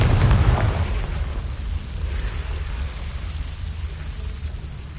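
A Confringo blasting spell explodes in the game Hogwarts Legacy, a loud booming burst at the start that decays into a crackling, rumbling tail.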